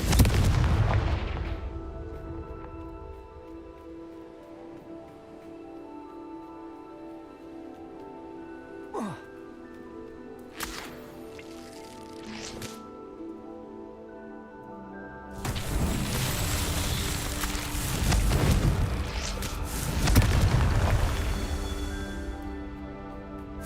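Confringo blasting spells in Hogwarts Legacy go off as heavy booming blasts: one at the start, a few sharper hits in the middle, then a long stretch of overlapping explosions and crackling debris against steady low game ambience.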